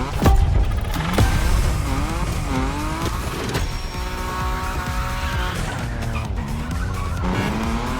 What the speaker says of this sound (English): Earn maximum points by drifting as long as possible